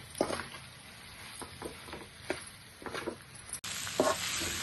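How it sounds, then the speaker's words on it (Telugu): Pasta tossed into a pan and stirred, with repeated soft scraping strokes over a steady sizzle, growing louder and brighter toward the end. "మనం పక్కన పెట్టుకున్న పాస్తా వేసుకుందాం వేసి కలుపుకుందాం"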